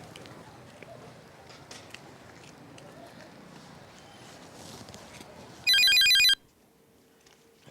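Phone ringing on an outgoing call: a single short, loud electronic ring burst sounds after a stretch of faint rustling background, then falls silent.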